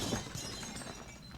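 Glass shatters loudly in a sustained, dense crash of breaking fragments that fills the short moment with no voices over it.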